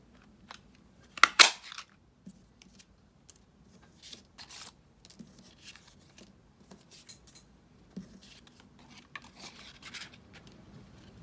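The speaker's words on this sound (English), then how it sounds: "Let's punch those out with the Ladybug Builder Punch." A handheld paper punch cuts ladybug shapes from card stock, one sharp loud crunching punch near the start followed by quieter scattered clicks and paper handling sounds.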